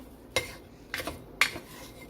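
Drained, rinsed cannellini beans dropped into a slow cooker, giving three short soft clattering knocks against the pot, close and quiet, with no talk.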